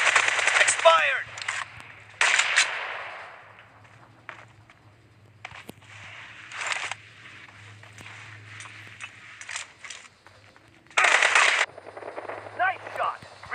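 Gunfire in a team-based shooting video game, with bursts of rapid shots coming in several loud clusters amid quieter game sounds and a low hum, while a voice speaks intermittently.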